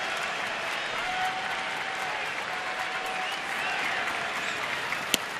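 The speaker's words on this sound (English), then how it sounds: "Crowd's loud." A loud stadium crowd at a Phillies at Washington baseball game roars and cheers steadily throughout, a dense wash of noise with one sharp crack near the end.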